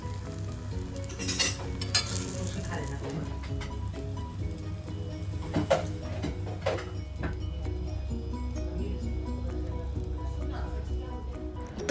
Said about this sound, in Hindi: अब इसका एक अच्छा सा ऑमलेट बनाते हैं